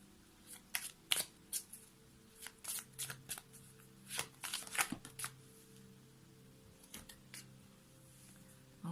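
Oracle cards are shuffled near the mic, with a string of crisp riffling flaps and slaps at irregular intervals between short pauses and no talk.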